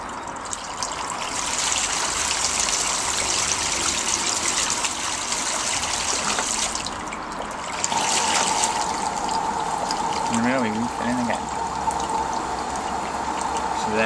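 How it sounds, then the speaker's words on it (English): Water gushing steadily into a Beko washing machine drum as it refills, a loud continuous rushing pour with brief dips, joined near the end by a faint mechanical whine. "There we are, we're refilling."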